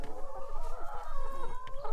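Free-range chickens on an organic farm cluck steadily and overlap one another, a close and continuous flock chatter with no talking.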